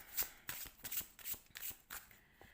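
A deck of tarot cards is shuffled close by in quiet surroundings, giving a run of quick riffling flutters in uneven bursts, with no talking.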